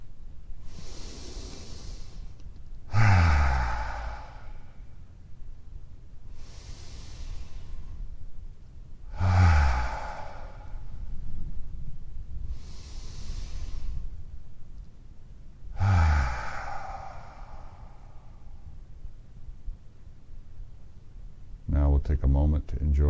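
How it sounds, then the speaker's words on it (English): Slow, deep breaths taken during a guided relaxation exercise, a few long airy inhales and exhales spaced several seconds apart, with a calm voice speaking softly between them. "Now we'll take 3 final deeply satisfying breaths"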